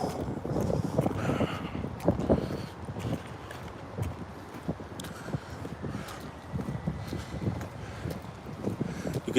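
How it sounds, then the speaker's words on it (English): Gusty wind outdoors beside rippling water, rumbling and buffeting the microphone in uneven bursts, with faint footsteps and scattered knocks underneath. "You can tell it's windy by how fast the waves, the ripple in the water moving."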